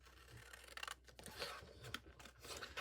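Quiet scissors snip and slice through paper while cutting around shapes, in short, irregular crunching strokes heard up close.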